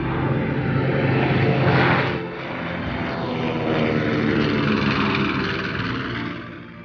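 A propeller aircraft takes off into clear Arizona skies, its engine drone loud, steady and close, swelling and easing slightly as it climbs.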